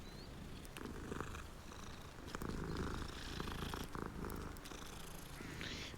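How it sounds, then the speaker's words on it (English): A cat in the video game Hogwarts Legacy purrs in a soft, continuous rumble, faint and close, with quiet game ambience and occasional clicks alongside. "It's that guy's cat."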